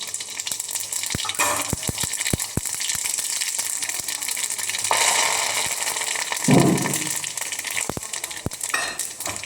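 Spices tempering in hot oil in a home kitchen, a burst of sizzling and crackling in the middle, surrounded by clinks of utensils and pans and some running-water-like hiss, no one speaking.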